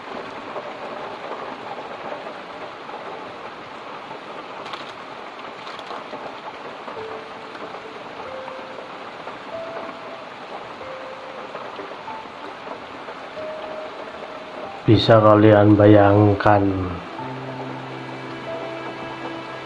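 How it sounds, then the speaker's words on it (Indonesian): Heavy rain pours steadily in a garden or plantation in Banjarnegara, a dense continuous wash of rainfall with a voice speaking softly in the background and a brief louder burst of clattering noise near the end. "hujannya sangat lebat."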